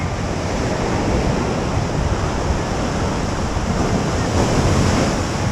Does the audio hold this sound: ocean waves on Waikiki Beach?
yes